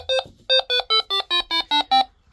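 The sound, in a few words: PARATEK Version 7 TEMPUS detector alarm sounding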